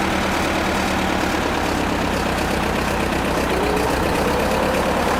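An amphibious Ford tractor engine runs steadily, a loud, continuous low rumble with a throttle-driven rise in pitch partway through, heard up close with no speech.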